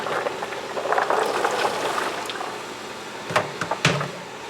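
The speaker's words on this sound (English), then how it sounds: "here's our nice big stock pot, half full of boiling water." Water at a rolling boil in a big stock pot half full, a steady bubbling hiss with a few clunks and knocks near the end, close and moderately loud.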